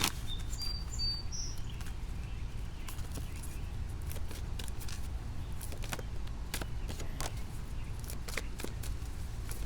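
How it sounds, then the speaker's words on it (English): Rain begins to fall outdoors as a steady broadband patter of drops, with sharper individual hits scattered throughout and a faint bird chirp early on. "Starting to rain, oh man."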